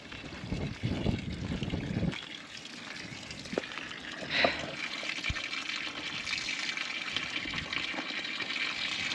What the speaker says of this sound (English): it's impossible to get it out with the water pouring out of it